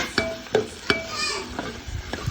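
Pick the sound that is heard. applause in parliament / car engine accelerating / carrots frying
carrots frying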